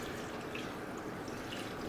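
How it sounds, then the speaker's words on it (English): Tap water runs steadily into a stock pot for homemade chicken stock, making a soft, continuous splashing hiss with faint droplet sparkle and no speech. "So right now I'm filling up the pot"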